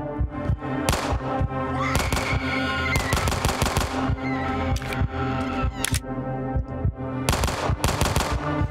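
Rapid bursts of gunfire from a 30-round-magazine rifle in a video game, sharp cracks fired in quick clusters and short strings with brief pauses between, loud and close with no talk over them.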